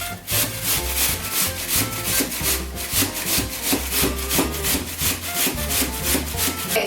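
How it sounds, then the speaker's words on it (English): An apple is grated on the thickest side of a coarse, worn grater, giving steady rhythmic rasping strokes, close and loud with no talking. "So I kind of grate it on like the thickest grater."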